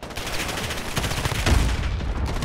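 M13 assault rifle gunfire in Modern Warfare, a dense stream of rapid automatic shots blending into a continuous rattling barrage, loud and close, with no talking.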